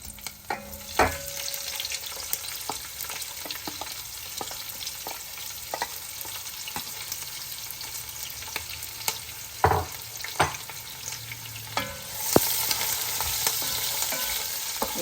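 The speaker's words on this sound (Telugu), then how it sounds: "నూనె వేడిగా కొంచెం ఇప్పుడు మనం దీనిలో ఆనియన్స్ వేస్తున్నాం" Onions fry in hot oil in a large pot, with a continuous close sizzle broken by the scrape and knock of a spoon stirring, then a louder surge of hissing near the end.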